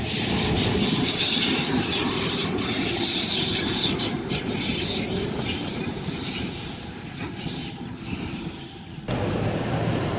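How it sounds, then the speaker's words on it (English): A Bondi Junction passenger train of eight cars, sets H18 and H2, runs past platform 3 with a loud, steady rumble, clattering wheels and faint squeal, and the sound eases off near the end. "We have a Bondi Junction service passing platform number 3."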